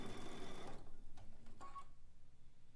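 A sewing machine stitches quilt pieces for a zig zag quilt, a close steady whir that stops partway through, followed by a few faint clicks and handling noises.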